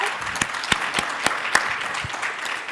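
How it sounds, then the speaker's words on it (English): Audience members at a youth economic council panel clap together in a sustained burst of applause, with distinct sharp hand claps punctuating the steady patter at close range. "Are you clapping because you're from the ward?"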